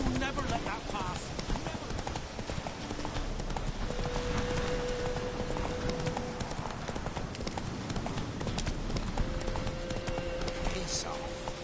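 Roach the horse gallops in The Witcher 3 video game, its hooves clip-clopping in a steady rapid rhythm throughout, layered under in-game voices and ambient sound.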